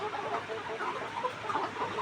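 Hens clucking around the laying boxes of a backyard coop in hot weather, a steady murmur of soft overlapping clucks close by with no pauses.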